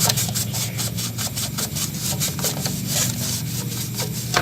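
Paint residue being scraped and rubbed off a refrigerator part during repair, a rapid rasping back-and-forth scratching with steady rhythmic strokes, close and fairly loud, no voices.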